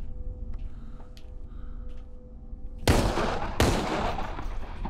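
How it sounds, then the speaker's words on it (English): Gunfire from the zombie-shooting VR video game Arizona Sunshine: two sharp, loud shots about a second apart, ringing into a dense noisy wash over a low hum. "I'm wasting too much bullets"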